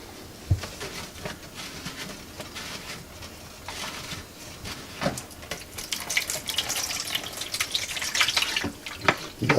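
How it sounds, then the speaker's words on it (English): Water spills from loosened supply line connectors under a sink into a bucket, a splashy, uneven patter with sharp bursts that grows busier and louder toward the end, close by and without talk. "You loosen up the connectors, and as you see, the water starts coming out"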